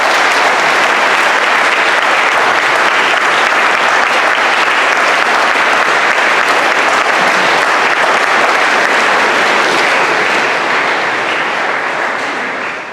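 Sustained applause fills a school prizegiving hall for about thirteen seconds, a thick, loud crowd of clapping hands that stays even before fading a little at the close.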